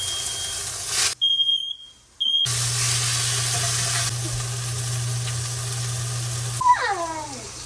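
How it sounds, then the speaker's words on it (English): A shrill, high-pitched smoke alarm beeps in short bursts while burgers cook, with a loud sizzling hiss around it and a brief squeaky chirp near the end. "I don't want the fire alarm to go off. Like that!"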